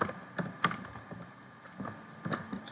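Computer keyboard being typed on while entering a Python print statement, giving a few clustered clicks and a faint, irregular tapping between them, close and alone with no voices.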